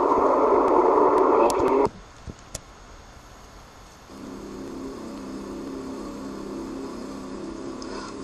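A persistent, steady hum runs through the room, loud at first, then dropping to a quieter low drone for a couple of seconds before swelling back to a continuous mid-level hum, with no talking.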